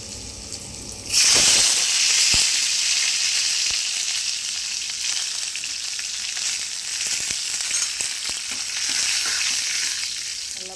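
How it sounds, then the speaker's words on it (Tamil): Mustard seeds, fenugreek and asafoetida hit hot oil with a sudden loud sizzle that settles into steady crackling and spitting, frying up close for about ten seconds with scattered pops and no talk. "இதுக்கு கொஞ்சம் எண்ணெய் ஜாஸ்தி தாங்க ஊற்றணும் பாருங்க கடுகு வெந்தயம் பெருங்காயத்தூள்"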